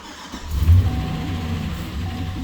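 An old truck engine with a stuck lifter cranks and catches, then settles into a steady, loud low rumble at close range with no talking.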